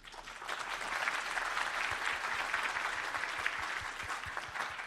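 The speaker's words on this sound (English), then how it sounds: "Please, a round of applause for the panelists." Conference audience at FUTURES Taipei 2024 applauds the panelists, a dense, steady wash of many hands clapping that holds evenly for several seconds, with no talking over it.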